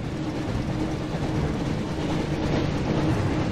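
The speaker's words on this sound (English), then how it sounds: "Looks like we found the train, Ron." A train rolls along steadily in the Harry Potter and the Chamber of Secrets PS1 video game, its continuous rumble and clatter loud and close throughout with no talk over it.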